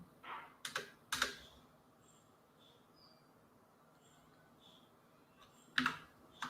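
Quiet clicks of keys being typed on a computer keyboard during coding work, a few sharp keystrokes near the start and a short cluster near the end, with near silence between.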